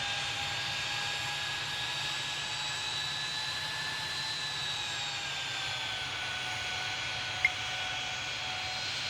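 A Delta Embraer 170 with winglets takes off in the Tower Simulator 3 game, giving a steady, moderately loud jet engine whine and roar that holds evenly throughout with no voices.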